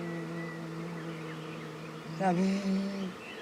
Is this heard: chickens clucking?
no